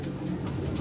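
Blue checkered De Bruxel racing pigeon cooing, a low, soft, close murmur lasting under a second with no talk.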